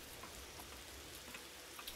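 Rain falls in the Empyrion survival game as a soft, even hiss dotted with faint droplet ticks, steady and quiet with no voices.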